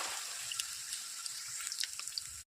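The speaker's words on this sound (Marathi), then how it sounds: "आता यांना सोयाबीनला आपण डीप फ्राय करून घेऊ." Soybean chunks deep-frying in hot oil in a pan: a steady, bright crackling sizzle with scattered pops and spits, close and fairly faint, cutting off abruptly at the end.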